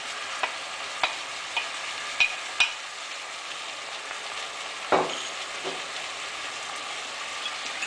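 Pre-cooked courgettes frying in a pan, a soft steady sizzle with a few sharp clicks and a brief louder stir midway; no talking.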